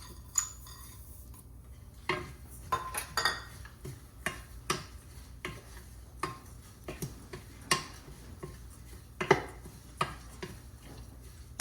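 Sesame seeds roasting in a pan for a sugar-free date sweet, heard as faint ticking and light metallic clinks of stirring against the pan, spaced irregularly over a quiet background.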